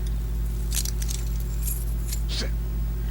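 In The Walking Dead video game, keys taken off a policeman give a few short, bright metallic jingles in quick bursts over a steady low hum.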